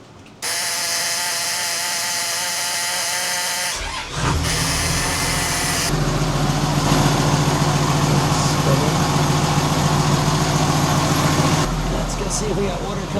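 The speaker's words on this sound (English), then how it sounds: "The engine is turning." A steel trawler's engine, on a 55-foot boat, cranks over and settles into a loud, steady rumbling run close by, with a brief gap and shifts in tone partway through.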